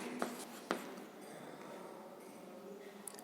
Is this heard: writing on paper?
yes